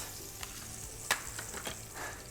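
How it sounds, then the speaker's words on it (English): Brisket searing in oil in a pot gives a steady, low sizzle throughout, with a few brief stirring clatters and scrapes over the frying hiss. "We have our brisket seared."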